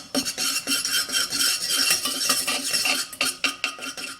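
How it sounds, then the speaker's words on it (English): Flour being whisked into a mixture to thicken it, a close, continuous rapid scratchy clatter of the whisk against the bowl with brief gaps, and no talk. "the flour, like so, and you whisk it"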